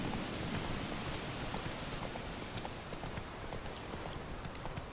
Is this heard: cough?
no